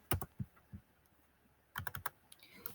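Computer keyboard typing in two short bursts of quick, light clicks with a quiet pause between them, close and alone with no talk.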